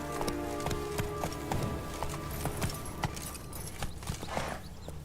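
Horse hooves gallop in a steady clip-clop rhythm through a video game, close and fairly loud over a busy background of game ambience and music.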